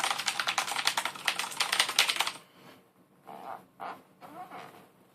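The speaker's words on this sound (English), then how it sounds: "Sound like I'm on a 1975 typewriter." Fast, loud clicking keystrokes on a Rosewill RK-9000I mechanical keyboard with Cherry MX Blue switches run for about two seconds and then stop, followed by a short stretch of someone talking.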